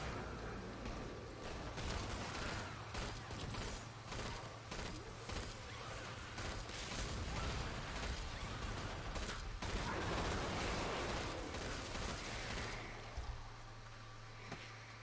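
Gunfire in Killing Floor 2, made up of dense, sustained bursts of rapid shots that run almost without a break, loud and close over a low steady hum.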